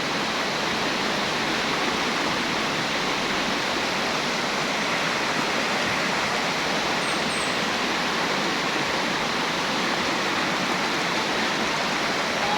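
River water flows past in a constant, dense rush, close and even throughout, with no talking.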